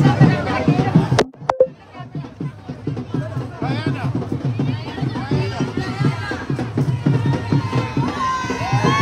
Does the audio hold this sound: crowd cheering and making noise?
yes